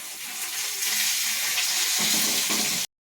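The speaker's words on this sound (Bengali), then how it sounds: "এই যে পাঁচফোড়ন দিলাম তেজপাতা দিলাম" Panch phoron and bay leaves hit hot oil in a pan, producing a loud, steady hissing sizzle that runs for nearly three seconds before cutting off abruptly.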